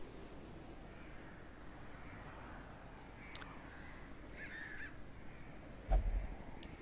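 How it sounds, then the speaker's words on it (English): Wind hisses steadily through the ambience of the Darkest Dungeon video game, with a few crows cawing faintly in the distance and a short thud near the end. "I do like that this game has the ambience of wind and crows cawing."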